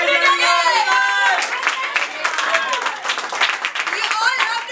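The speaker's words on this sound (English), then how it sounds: "We all have to continue clapping our hands." An audience at an English Caffe felicitation celebration claps together in a lively, sustained round, with voices calling out and talking over the applause.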